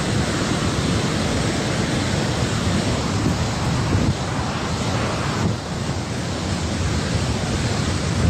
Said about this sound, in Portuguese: É muita água, gente, é muita água